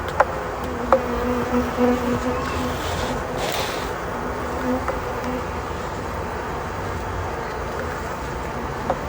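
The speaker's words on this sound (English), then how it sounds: "whichever bees were still inside the bucket, coming out and they're doing a little dance in the front" A dense, steady buzz of a honeybee swarm humming close by at a hive entrance in late October, continuous throughout with a faint low rumble underneath.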